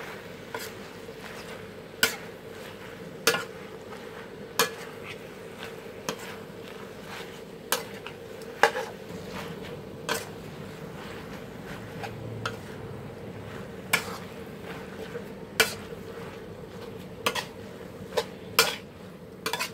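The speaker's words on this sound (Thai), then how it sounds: "สุดท้ายนะคะใบกะเพราค่ะ เอาลงไปผัดให้หอมนะคะ" Chicken offal and holy basil leaves stir-fried in a pan: a faint low sizzle runs underneath, while a spatula taps and clinks against the pan roughly every second or two, with no talk.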